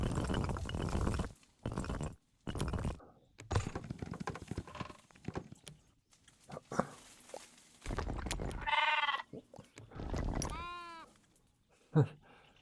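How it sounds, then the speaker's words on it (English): Sheep bleat in the village-building game Tiny Glade, two clear wavering cries standing out between bursts of soft game noise and thumps. "there's still a sheep trapped under there."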